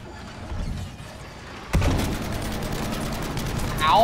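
Gunfire in the video game Battlefield V: a quiet stretch, then a sudden sharp report followed by rapid, evenly spaced automatic fire that stays loud and close.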